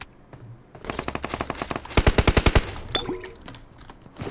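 M4 rifle bursts ring out in the video game PUBG Mobile: several rapid automatic volleys, the loudest a tight string of about eight shots near the middle, close and sharp with no talk.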